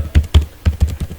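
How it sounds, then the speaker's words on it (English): Keys clack on a computer keyboard in a quick, uneven burst of about six distinct taps, close and clear with no talking. "You can easily check these by typing here"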